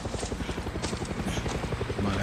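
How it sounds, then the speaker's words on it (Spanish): A helicopter in the video game Far Cry 6, its rotor thumping in a fast steady beat under ongoing game sounds and talk. "otro helicóptero"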